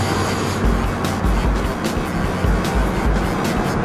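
MINI car motoring past two rows of parked cars in San Francisco, a close, steady engine and road-noise rumble with slight surges as it drives by.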